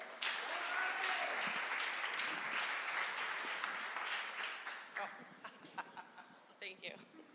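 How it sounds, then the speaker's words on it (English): A room of attendees at a social media breakfast applauds a speaker taking the stage, sustained clapping that thins out into scattered claps and a few voices toward the end. "give her a big round of applause"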